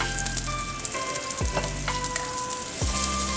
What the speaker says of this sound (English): Stir fry a little bit. Then add in purple onions.